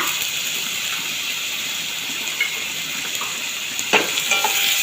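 Beef curry fries in a pan, a steady hiss of sizzling with occasional scrapes and clinks of stirring, close and fairly loud, with no talking.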